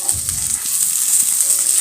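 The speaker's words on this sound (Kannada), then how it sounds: "ಹಾಕ್ಕೊಂಡು ಚೆನ್ನಾಗಿ ಫ್ರೈ ಮಾಡ್ಕೊಳ್ಳೋಣ" Bitter gourd frying in a pan gives a steady, close hiss of sizzling oil, even and continuous throughout, with no voices.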